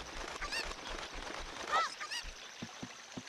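A cucco chicken in a Zelda randomizer video game clucks and squawks in a few short, rising calls over faint background game sound.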